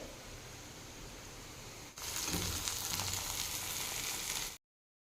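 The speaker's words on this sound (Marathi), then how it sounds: "ही आता छान दोन मिनिट तेलामध्ये परतून घेणार आहे" Freshly chopped green chilies and onions frying in hot oil: a faint crackle swells abruptly into a loud, close, steady sizzle, with light stirring in it, then it stops short.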